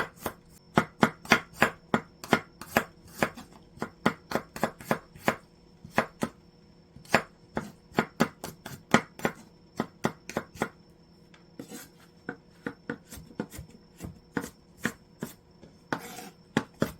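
A kitchen knife julienning vegetables on a cutting board for kimchi, rapid sharp taps in quick irregular bursts, close and crisp with short pauses, and no talking.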